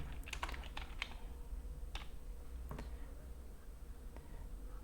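Typing on a computer keyboard produces a few faint, scattered key clicks, clustered early and then sparse, over a low constant room hum.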